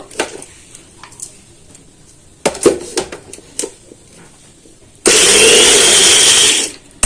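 Mixer grinder blending green chilli chutney, a loud, steady high-pitched whirring burst of about a second and a half that stops abruptly, preceded by scattered clinks and handling noises.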